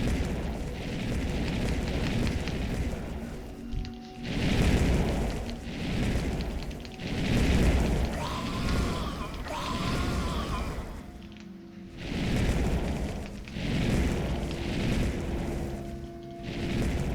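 Shot barrels blow up in a VR zombie rail shooter game, a run of loud booming explosions with rumbling bursts repeating every few seconds over a continuous dense game soundscape.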